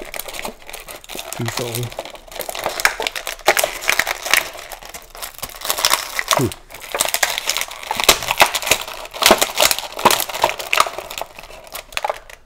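Plastic packaging crinkling and crackling as a Halo Master Chief action figure and its assault rifle are popped out, loud, continuous and close, with a voice speaking briefly over it.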